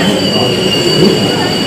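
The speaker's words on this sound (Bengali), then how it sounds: "আমার ট্রেন আসে গেছে" A Kolkata Metro train arrives at a station platform: a loud, steady rumble of wheels and motors with a high, sustained squeal from the rails, filling the whole stretch.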